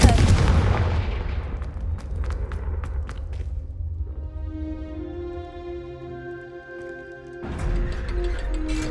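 A Confringo blasting spell is cast in the Hogwarts Legacy game, opening with a loud explosive boom that fades into a ringing tone, and a second blast hits near the end.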